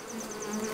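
A brief, steady hum of honey bees buzzing close around honey supers on a hive, with no voices.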